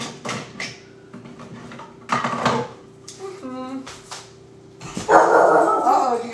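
A dog barks a few times in the background, sharp yaps between kitchen clatter and a steady hum.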